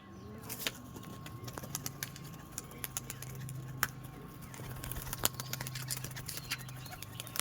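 Giribaz-line pigeons kept for sale coo in low, drawn-out murmurs that rise and fade a few times, mixed with sharp clicks, wing and foot taps and scattered chirps close by.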